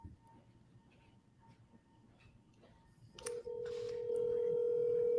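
A telephone being dialed twice in quick succession: faint keypad tones give way to a loud, steady ringing tone that holds to the end.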